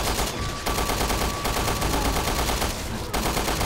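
Rapid, loud shotgun blasts in the survival-horror game Resident Evil Revelations 2, dense repeated gunfire with brief gaps, packed into a short burst of combat noise.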